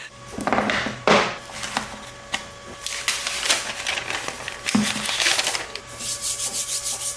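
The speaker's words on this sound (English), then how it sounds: "First, let's take the device out of the box." A CMF Phone 1 is taken out of its box, with close, irregular scraping and rubbing of cardboard and packaging, sliding swishes and a few soft knocks, no speech.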